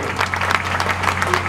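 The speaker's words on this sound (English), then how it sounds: "Please give them a round of applause." Guests at a traditional wedding party clapping for the couple, a steady crowd applause over a constant low hum, sustained and fairly close throughout the short burst.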